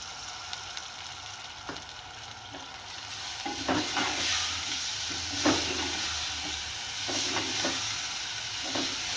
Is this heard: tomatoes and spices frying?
yes